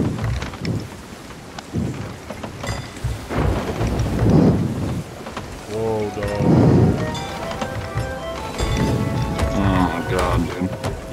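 Thunder rolls repeatedly through steady rain during a video game storm on a boat, loud, booming surges rising and fading, while people talk over it.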